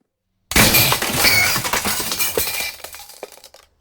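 Synthetic effect of keys falling down a well onto glass: an abrupt loud crash of shattering glass with jangling, clinking debris that trails off and thins out over about three seconds.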